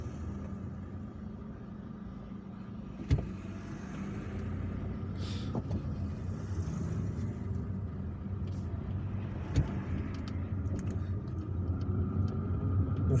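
A car driving through quiet Friday-morning streets in Algiers, from Telemly to Chevalley, gives a steady engine and road rumble throughout, with a couple of brief knocks or bumps and no talking.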